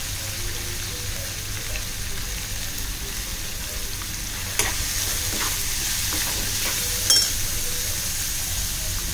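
Onion and curry leaves frying in oil for a kaleji masala, a steady close hiss of sizzling with a couple of brief louder crackles partway through, no talking.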